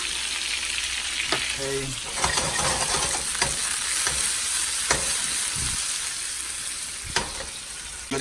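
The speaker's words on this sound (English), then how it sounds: "Basically just start throwing the butter on top like this." Steak and mushrooms sizzle steadily in a pan while butter is spooned over them, a continuous close frying hiss broken by scraping and clinking spoon taps, with one brief spoken word.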